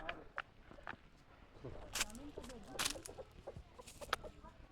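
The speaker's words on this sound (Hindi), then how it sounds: "ये मुर्गा फिर रहा है।" Rooster clucking while roaming a dense mountain fruit orchard, with short clucks and calls scattered across the clip amid rustling and faint background voices.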